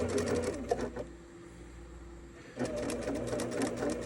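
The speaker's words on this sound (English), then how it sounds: "And I'm just gonna go real slow and give myself a little bit of a back stitch right there." A sewing machine runs in two bursts of steady stitching through fabric for homemade Easter eggs, with a short quiet pause between them; the stitching is close and fairly soft, and there is no talk.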